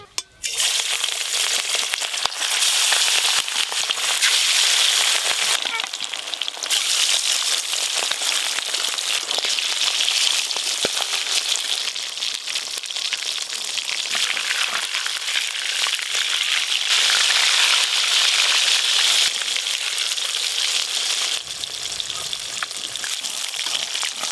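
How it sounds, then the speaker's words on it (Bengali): Large grass carp pieces fry in hot mustard oil, a loud, close, continuous sizzle and crackle that keeps going steadily with no talking over it. "এবার মাছগুলো তেল ঝালের জন্য লাল লাল করে ভেজে নেব"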